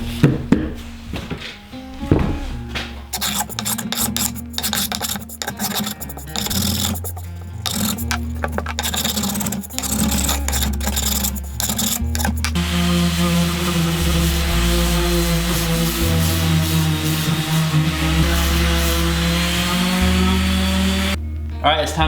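A hand planer works a wooden checkered-pattern cutting board in choppy, stop-start bursts, then a random orbit sander takes over with a steady, loud, continuous whine.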